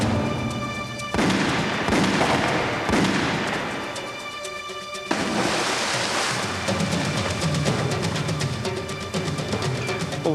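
Gunfire fills a TV drama shootout, dense rapid shots and booming reports echoing over several seconds, loud and chaotic, with crashing bursts throughout.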